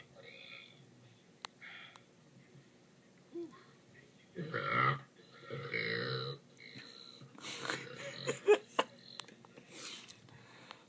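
Repeated loud burps from a woman during a late-night burp contest chat, several throaty bursts in a row with quieter gaps and faint background noise between them.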